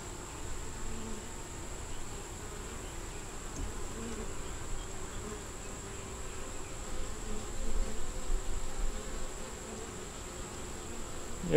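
Honeybees buzzing around hive frames, a dense continuous drone of many insects near and far, fairly soft and steady with slight swells, no talking.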